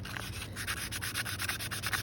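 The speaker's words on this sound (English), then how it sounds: "So I use 220 grit sandpaper." 220 grit sandpaper rubs back and forth across the bevel of a pruning tool blade in quick, even scraping strokes, close and fairly quiet.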